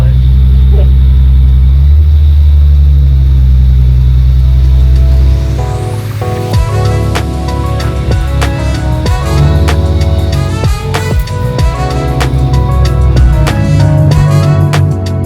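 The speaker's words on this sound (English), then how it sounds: "that thing definitely has some pretty bad rod knock" A Nissan 370Z with engine rod knock starts idling with a low drone, then pulls away and accelerates loudly nearby, the engine note rising through the gears.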